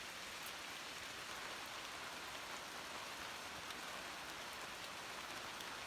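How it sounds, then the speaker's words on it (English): Steady rain falls at a van campsite beside a small fire, a dense, even hiss of drops on surfaces that holds constant throughout with no voices. "But the rain is back."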